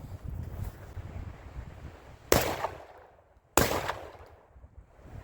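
Two sharp, loud blasts from a Panzer EG200 shotgun firing buckshot outdoors, about a second apart, each trailing off in a short echo over steady wind noise.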